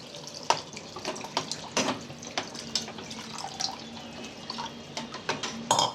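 A little water is poured into a pot of Malvani surmai fish curry, giving close, splashy trickling and dripping with scattered clinks of utensils, and no voices.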